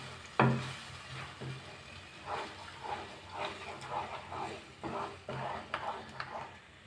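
Irregular scraping and tapping of a utensil stirring thick gram-flour batter for Bombay chutney in a pan, soft and close, with a few sharper knocks against the pan's side.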